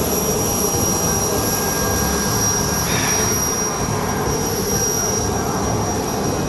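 A steady, loud airplane engine roar with a high whine runs throughout, unbroken and close by, outdoors in Zimbabwe, with no talking.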